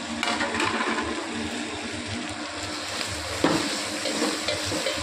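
Tomatoes frying in a pan on the stove give off a steady, dense sizzle that fills the space close by, with a brief louder crackle partway through and no voices.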